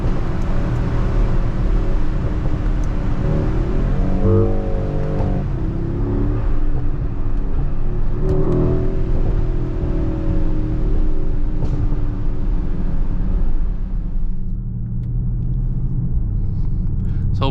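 A big V8 bi-turbo engine in a 2023 Mercedes-Benz GLE 63 S AMG Coupé rumbles and revs steadily, with a couple of rising surges in the middle, loud and close throughout.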